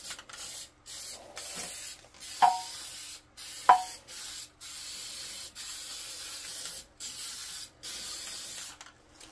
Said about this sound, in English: So now I'm gonna start with the rust converter.